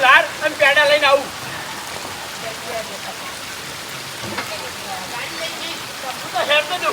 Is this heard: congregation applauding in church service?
no